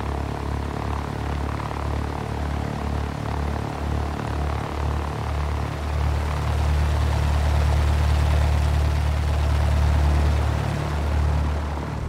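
A Cessna 172S taxiing in the X-Plane 12 flight simulator gives a steady, close propeller-engine drone at low idle-like power, with a rumbling tone that swells slightly as it rolls along.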